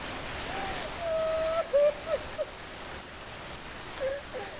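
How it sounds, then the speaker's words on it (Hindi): Steady rain falls through a dark night, a soft continuous patter that runs throughout, joined by a few brief faint tonal chirps partway through. "बरसात की एक अंधेरी रात थी।"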